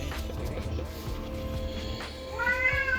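A cat meows near the end, a short tonal cry rising over a steady background drone and low rumble during play of the strategy game Age of Mythology, with no talk.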